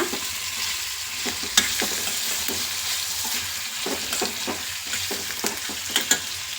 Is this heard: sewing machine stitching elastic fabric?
no